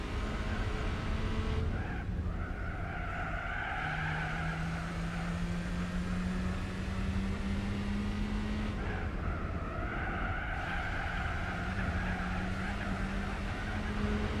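A front-wheel-drive racing car in Gran Turismo 4 drones steadily at high revs through a long run, its engine pitch slowly rising, falling and rising again with gear changes, accompanied by faint tyre noise.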